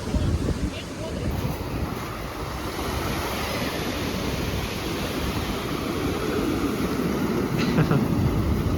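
Ocean waves wash steadily onto the shore, a continuous broad surf roar with gusting wind noise on the microphone and no clear talking.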